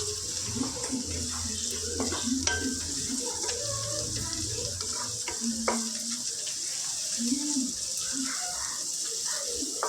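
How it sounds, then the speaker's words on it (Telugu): Ginger-garlic paste with turmeric fries in a pan for a village-style chicken curry, making a steady, close sizzling hiss with a few scattered stirring clinks and no talking. "ఒక వన్ స్పూన్ పసుపు ఒక వన్ స్పూన్ అల్లం వెల్లుల్లి పేస్ట్ వేసుకొని అల్లం వెల్లుల్లి పేస్ట్ పచ్చివాసన పోయేంత వరకు చక్కగా ఫ్రై చేసుకోవాలి"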